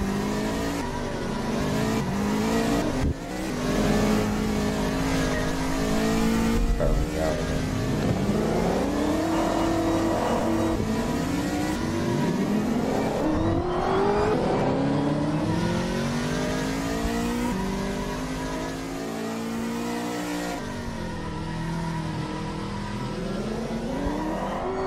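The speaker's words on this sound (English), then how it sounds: "You can hear that supercharger whine. That's probably one of the Dodge cars." A Dodge race car engine with supercharger whine, revving hard and loud through repeated rising and falling sweeps as it accelerates, close and continuous for the whole stretch.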